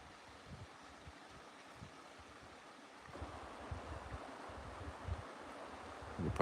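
A creek flows somewhere below an Alaskan homestead, a steady broadband wash of running water that grows slightly louder partway through and continues alone without voices.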